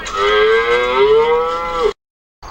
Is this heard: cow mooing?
yes